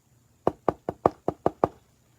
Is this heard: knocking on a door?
yes